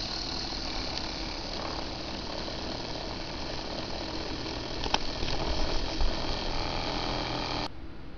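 A small pulse motor spins with a tiny 300-turn coil, giving a faint, steady mechanical whir with fine rapid ticking that continues evenly throughout, alone without voices.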